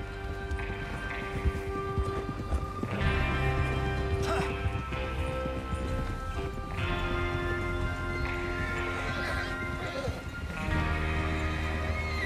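In the Western video game Red Dead Redemption 2, horses gallop with steady rhythmic clip-clopping hooves and an occasional whinny, close and continuous, while voices talk over the riding.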